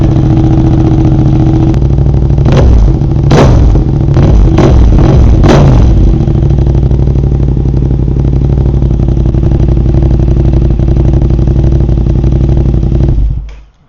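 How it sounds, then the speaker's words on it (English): Yamaha R7 motorcycle fitted with an Akrapovic full exhaust, idling loudly up close, then blipped in about five sharp revs before settling back to a steady idle and cutting off at the end. "So let's hear this one a little bit, get an idea how it is going to sound"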